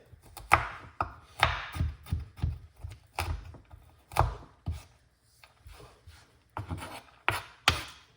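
An avocado seed is chopped with a blade, giving a run of sharp, close knocks at an uneven rhythm with brief pauses between strokes.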